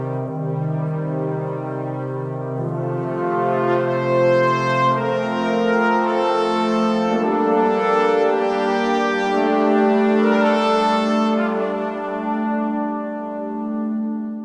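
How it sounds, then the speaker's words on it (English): Orchestral brass section playing a sustained melody with a counter line, rich layered horn chords swelling and fading, loud and full, alone without voices. "So here's the brass by itself."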